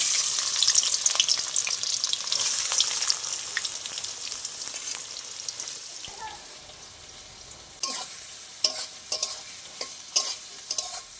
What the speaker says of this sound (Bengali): এবার কেটে রাখা পেঁয়াজগুলো দিয়ে দেবো তেলের মধ্যে।